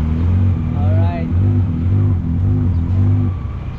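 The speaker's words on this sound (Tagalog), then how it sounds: "Palyado mo yung kotse." Car engine idling roughly with a misfire, a loud low chugging that pulses unevenly through the whole stretch, with a brief whine partway through.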